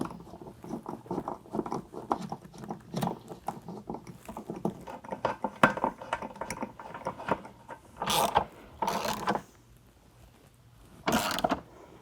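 Hand ratchet tightening bolts on a Rugged Ridge spare tire relocation bracket at a Jeep JL tailgate, clicking in quick repeated bursts up close, then a few louder separate rasping strokes.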